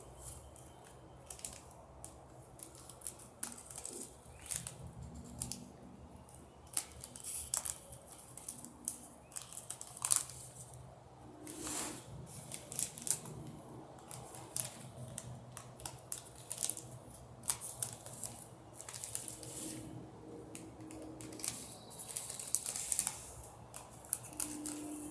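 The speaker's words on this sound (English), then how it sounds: "just go around and cut the extra plastic off, the extra fabric" Scissors snipping extra plastic fabric off a hanging basket liner, a soft, irregular series of small clicks and crisp cuts, faint and close, with rustling between snips.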